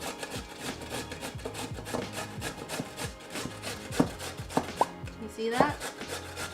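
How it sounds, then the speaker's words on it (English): A peeled sweet potato is rubbed against the biggest holes of a box grater in steady rhythmic rasping strokes, close and continuous, with a brief spoken remark over it. "grate it with the biggest holes on your box grater"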